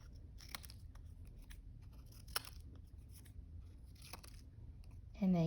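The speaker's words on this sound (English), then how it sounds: "So I'm just gonna put my 2 together at the same time and cut off" Scissors snipping the corners off paper while making a hat: a few quiet, sharp cutting clicks and crisp paper crunches spread across a soft, hushed background, with a brief louder noise at the end.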